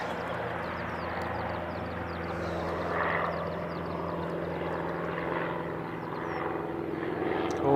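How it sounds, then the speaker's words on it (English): A small training aircraft takes off at Christchurch International Airport at sunrise, its steady propeller engine drone holding at a moderate distance throughout and swelling slightly near the end. "We got another little aircraft going off."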